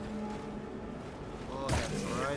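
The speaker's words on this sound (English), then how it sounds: "someone's got some really loud fireworks just outside" A loud firework bursts outside at about the midpoint, a sharp boom followed by crackling, heard over steady background game sounds on bonfire night.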